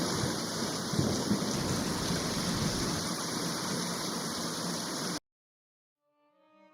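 Heavy rain pours steadily with a low rumble of thunder in a village thunderstorm over farm crops, a dense wash of sound that stops abruptly and leaves near silence.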